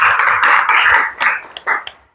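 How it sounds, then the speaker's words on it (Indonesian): Classroom applause from a group clapping together: a dense, steady patter of many hands that thins into a few scattered final claps and then stops. "tepuk tangan"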